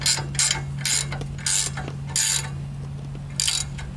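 A wrench turns a nut on the front spindle of a 2003-or-later Chevy Express 3500 van during a front spindle lift install, giving several quick ratcheting bursts spaced over a steady background hum.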